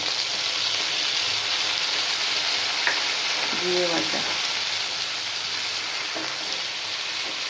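Cumin paste hits potatoes frying in oil with turmeric, a steady close sizzle and crackle continuing throughout, with a brief voice partway through.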